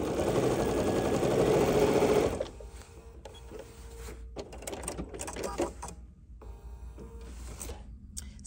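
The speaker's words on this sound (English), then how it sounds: "now we can top stitch this down, and we're gonna stitch this" Sewing machine top stitching a folded fabric edge using a quarter-inch foot on a small bag, a loud continuous motor whir for about two seconds, then quieter bursts of stitching with gaps and clicks.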